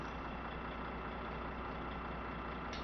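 A Volvo FH truck engine runs steadily with its power takeoff engaged, a constant low diesel drone heard up close and alone.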